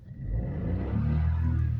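A Ford car engine, close and fairly quiet, rises in a low rumbling rev as the gas pedal is pressed, in a repair setting for a low fuel rail pressure sensor circuit fault.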